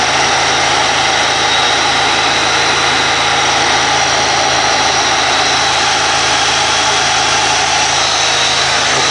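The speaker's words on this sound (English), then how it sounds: "you heard the fans come on. They're a lot quieter than the factory fans." Aftermarket vehicle cooling fans run at full speed, a loud, steady broadband whoosh with an engine-like drone underneath that holds unchanged throughout.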